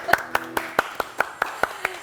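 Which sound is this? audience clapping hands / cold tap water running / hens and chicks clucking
audience clapping hands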